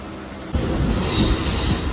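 A train bound for Howrah rumbles loudly and steadily after a sudden start from the station, with rolling wheel noise and faint squeals close by.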